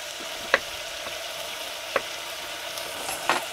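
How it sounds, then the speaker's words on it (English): Onion rings sizzling in a pan during campervan cooking, a steady close hiss of frying with a few faint clicks of stirring, no talking. "those onion rings are now sweating nicely"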